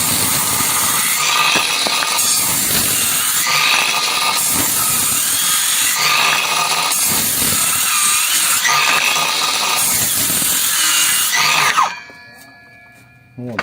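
A Heimerdinger LB293 cordless circular saw cuts fresh, sound wood in a series of loud whining passes with brief dips between them, then the blade spins down and falls quiet.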